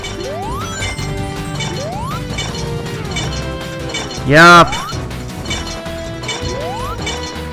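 Classic Sonic getting smashed in Sonic Generations at Seaside Hill, a single loud crashing impact midway through, set against bright game music with rising chime effects and a brief spoken word.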